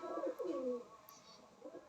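A Madrasi pigeon in a breeding loft gives a soft, throaty coo, a few low rolling phrases close by and quiet, with no one speaking.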